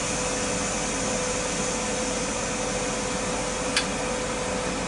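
Steam rushes from a Ninja Foodi pressure cooker on quick release while cooking mashed potatoes, a loud, unbroken hiss lasting several seconds with one faint click partway through and no voices.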